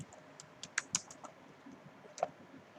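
Quiet, sparse clicks of a computer keyboard as someone types, a few sharper key taps standing out in an uneven rhythm, close by with no talking.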